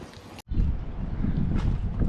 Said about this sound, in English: If you can't tell, there is wind.